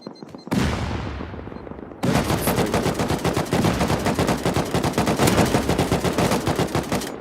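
Rapid bursts of gunfire in the video game Rust crackle loudly, first a single blast then sustained automatic fire with incendiary rounds rattling on without pause.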